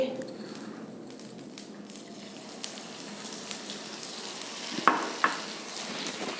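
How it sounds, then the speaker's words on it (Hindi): Edible gum (gond) fries in a pan for laddoos, a soft, steady sizzle with a few sharp pops and crackles rising toward the end, heard fairly faint and close. "और उसे भी इसी तरह तल लेंगे।"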